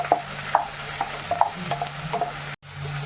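Okra fries in hot oil in a pan for a Kerala theeyal. Scattered stirring clinks and scrapes sound over a soft sizzle, with a short silent gap near the end.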